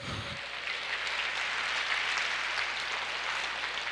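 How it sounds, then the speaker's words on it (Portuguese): Sustained clapping from a church congregation during a service, a dense, even wash of applause after a brief voice at the start. "Aplauda o Senhor"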